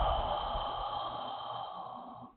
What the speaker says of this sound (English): when you take a breath in, you actually almost like gasp